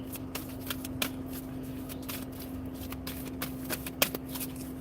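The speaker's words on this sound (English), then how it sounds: "I'm gonna shuffle 4 times for you." A deck of tarot-style reading cards is shuffled by hand close up, a continuous soft riffling and slapping with sharper snaps near the start and end, under a faint steady hum.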